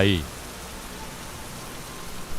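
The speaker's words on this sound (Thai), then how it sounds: "ฝนที่ตกหนักขนาดนี้" Heavy rain falls around a small hut as a steady, even hiss. A brief voice sounds at the very start, then the downpour continues alone.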